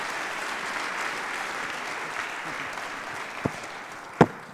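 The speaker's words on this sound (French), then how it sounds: "On peut l'applaudir." An audience claps steadily at moderate volume, a dense patter of many hands with a couple of sharper claps near the end.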